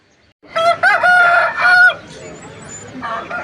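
At a rooster market in Vijayawada, a rooster gives one loud, close crow with a drawn-out call, followed by quieter clucking and faint background noise.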